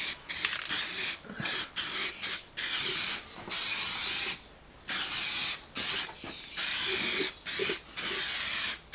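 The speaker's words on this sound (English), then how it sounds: "a mist painting on, a mist coat." Spray paint hisses out in short repeated bursts, close and loud, laying a mist coat on a motorcycle part, with brief pauses of quiet between passes.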